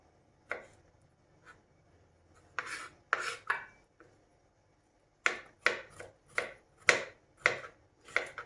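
A knife cuts large garlic cloves into smaller pieces on a board, starting with a few scattered chops and then a run of seven or eight close, crisp cuts in an even rhythm.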